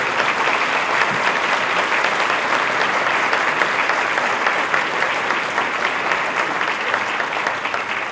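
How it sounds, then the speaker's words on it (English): An audience at an evening awards ceremony gives sustained, even applause for the honorees, a loud, dense wash of clapping with no pauses throughout. "How about one more round of applause for all of our beacons here this evening?"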